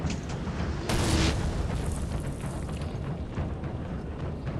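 Cannon fire and explosions in the Napoleon Total War battle game, one sharp loud boom near the start followed by a rumbling, crackling battle din of distant shots throughout.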